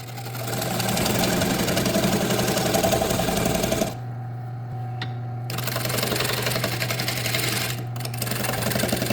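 Wood lathe spinning an oversized wood blank through a knot, a loud steady machine drone with rattling cutting noise that drops away briefly midway, then resumes.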